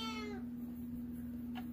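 A cat gives a short, clear meow close by, then a faint second chirp follows over a steady low hum in a quiet indoor room.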